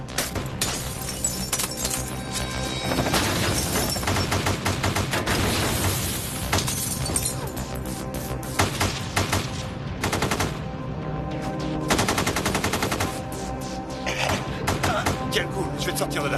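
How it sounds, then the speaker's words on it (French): Hundreds of gunshots fired in Loren Canyon, North Hollywood, in a dense, continuous barrage of rapid bursts and cracks with shattering impacts, loud and sustained throughout with voices mixed in. "Ils tirent des centaines de coups de feu."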